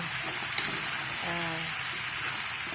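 Steady, close sizzle of sautéed string beans and squash with pork frying in a pan, continuous crackling with a single sharp tick near the start.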